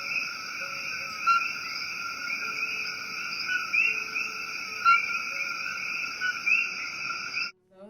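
Loud, continuous chorus of coqui frogs with stacked steady tonal bands and occasional chirpy notes, dense and unbroken, ending abruptly.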